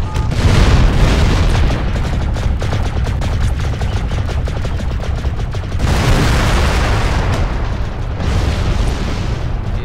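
Mech weapons in the MechWarrior Living Legends video game on a Chaos March battle map: a loud, sustained barrage of rapid rattling autocannon fire mixed with heavy booming explosions and rumbling blasts, dense and continuous.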